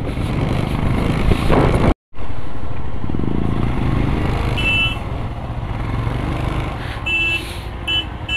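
A motorcycle engine roars loud and close without a break while riding a dusty, rough mountain road near Taglang La Pass on a Ladakh trip. The noise cuts out for a split second once, and faint tones ring above it.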